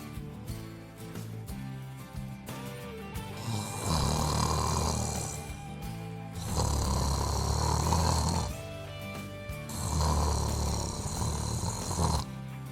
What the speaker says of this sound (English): My husband's snoring affects my sleep?